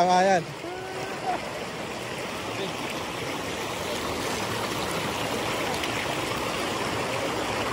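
Water flows and churns steadily in a strong current with waves, a broad continuous rush heard close, while voices call out briefly at the start.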